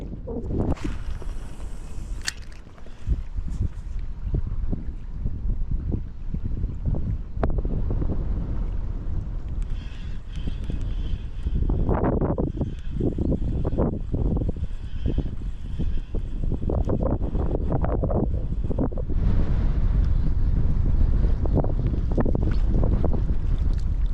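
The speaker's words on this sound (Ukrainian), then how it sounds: "а тут вітер капець просто, ще й холодний" Strong, cold gusty wind on a lakeshore while fishing buffets the microphone in heavy low rumbling blasts, with water lapping faintly beneath, continuous throughout.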